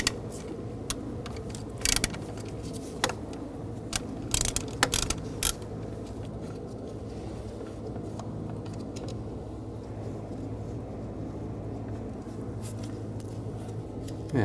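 A T40 socket ratchet backing out screws on the idle air control valve of a 2000-2006 BMW X5 3.0L, with a cluster of sharp metallic clicks early on, then a steady low hum, close and without talk.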